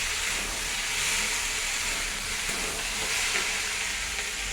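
Potato curry frying in a pan with black cumin, onion and chili tempering, giving a dense, continuous hissing sizzle that holds steady and close throughout, no talk.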